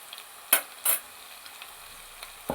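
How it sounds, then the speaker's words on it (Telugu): Ginger garlic paste frying with browned onions in a pan for mutton brain kheema, a low steady sizzle broken by a few sharp, close spatula scrapes and clinks. "దీన్ని చక్కగా పచ్చివాసన పోయేలాగా వేయించుకుందాం"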